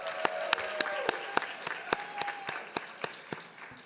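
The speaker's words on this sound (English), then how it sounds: "Let's give the faculty a round of applause for that." An audience at a medical school winter class day ceremony applauds the faculty, a quiet hall-wide patter of clapping with a few sharper, closer claps standing out at regular intervals.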